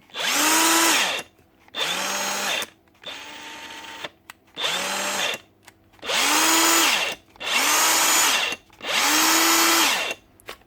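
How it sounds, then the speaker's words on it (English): A Dewalt DCF899 cordless impact wrench whirs close and loud in seven short bursts with brief gaps. The motor runs but the anvil is not turning, so there is no hammering. "Dewalt nut gun. It's been a while since I had one of these ones on. Running."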